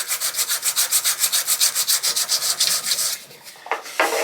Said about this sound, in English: I'm going to be sanding over here for a while.